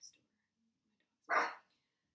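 A neighbor's dog gives a single short bark, faint and distant, after a near-silent stretch with a faint small sound at the start.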